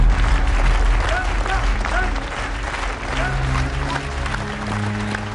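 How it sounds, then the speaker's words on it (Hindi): A crowd applauds loudly and continuously at a village gathering honouring a prize, the clapping dense and sustained, with voices talking underneath. "तालियां!"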